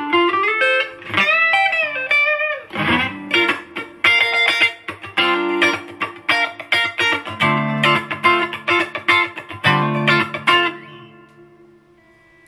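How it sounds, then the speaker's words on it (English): A Fender Champion 40 amp with reverb carries an electric guitar on the neck pickup playing a blues phrase, bends and quick picked notes ringing clearly, ending on a sustained chord that fades away. "if we put back to the neck pickup and we play some blues or something"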